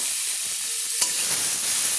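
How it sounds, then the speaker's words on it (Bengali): Cauliflower florets fry in oil in a covered pan, giving a steady, even sizzling hiss throughout with a single small tap or clink partway through. "ফুলকপিগুলো আমার 1 মিনিট ধরে চাপা দিয়ে ভেজে নিয়েছি লাল লাল করে"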